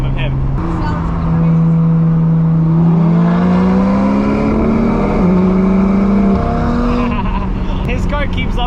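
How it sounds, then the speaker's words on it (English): Sports car with exhaust valves open driving through a road tunnel, a loud droning engine note that climbs through revs and shifts, echoing around the car, with a voice talking over it. "this is the first time we'll be going through tunnels with my valves open, so this should be really loud"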